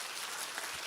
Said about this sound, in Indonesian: Tepuk tangan sama Tuhan Yesus.